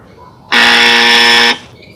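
A single harsh, flat buzzer tone blares loudly for about one second, then cuts off, like a game-show wrong-answer sound.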